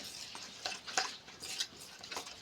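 Cornflour and white oil are stirred together in a bowl, giving soft, rhythmic scraping and light tapping strokes, quiet and close with no voices.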